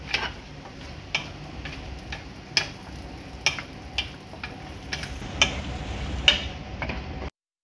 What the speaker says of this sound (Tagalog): Ngayon ay ilalagay na ang carrots or jisar kung sa Arabic.